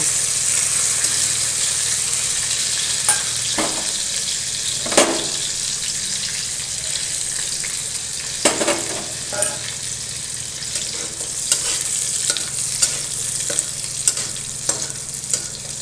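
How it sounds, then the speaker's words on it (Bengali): Continuous bubbling sizzle of cashews and peanuts frying in hot ghee, with intermittent clicks and scrapes of a spoon stirring in the pan. "ঘি গরম হয়ে এলে কাজু বাদাম ও চিনে বাদাম ভেজে নেব।"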